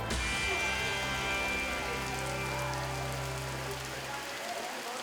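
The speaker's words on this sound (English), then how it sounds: "a torrential downpour may be unwelcome in camp" Torrential rain pours down in the Amazon jungle as a dense, steady roar of drops hammering the surfaces, loud and unbroken throughout.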